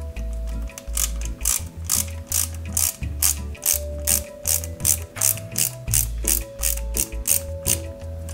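Small screws being driven by hand into a plastic part of a 1/8-scale Knight Rider KITT Pontiac Firebird model, a steady clicking ratchet screwdriver rhythm repeating in quick bursts, close and clear with no talking.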